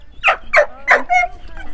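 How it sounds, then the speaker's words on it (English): A dog barks four times in quick succession, loud and close, with sharp evenly spaced yaps on an outdoor springtime cliff-top walk. "Extremely vocal doggy."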